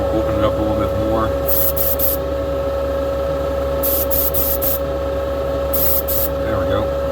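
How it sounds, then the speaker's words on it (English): A spray gun paints a model race car in three clusters of short hissing bursts, separated by pauses, over a constant electrical hum and low background rumble. "when you're spraying this light, everything's pretty much dry to touch as soon as you get it sprayed on"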